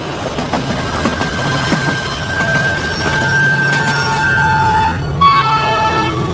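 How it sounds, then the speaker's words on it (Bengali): A distant train sounds steady tones over a rumbling rail background as it approaches a station at night, with a louder tonal burst near the end; no one speaks. "ট্রেনের হুইসেল শোনা গেল দূরে। 11:30টার ট্রেন আসছে।"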